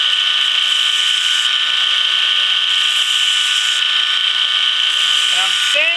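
A bench grinder works steadily on a blacksmith's pritchel, its high whine holding constant and loud throughout, with pitch shifts near the end as the tool presses against the wheel.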